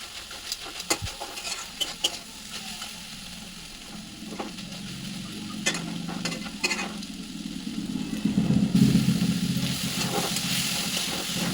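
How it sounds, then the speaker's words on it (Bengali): Crab and taro stolon curry frying uncovered in a pan, a steady close sizzle broken by sharp spatula clicks and scrapes, the frying growing louder toward the end. "এবার ঢাকনাটা খুলে দিলাম, দিয়ে এবার এটাকে একটু ভেজে নেব ভালোভাবে।"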